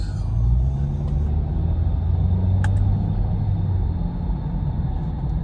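A Jaguar XE 2.0t with a 200 hp engine, in dynamic mode, produces a steady low engine rumble with some road noise and no clear rise in revs.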